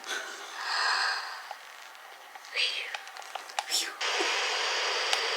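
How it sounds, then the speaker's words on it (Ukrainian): A toy plays a recorded snoring sound: slow, breathy snorts repeating at moderate volume with quiet gaps between them. "Храпіння."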